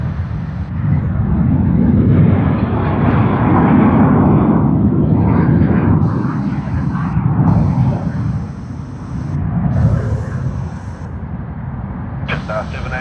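A Qantas Boeing 737 on a Sydney-to-Adelaide service takes off from runway 25 at Sydney Airport, its engines giving a heavy, sustained roar that swells and holds, with voices speaking over it.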